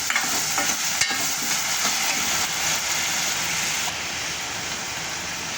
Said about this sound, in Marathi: आता हिला दोन मिनटं परतून घ्यायचं